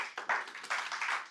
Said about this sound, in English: clap for yourself for being here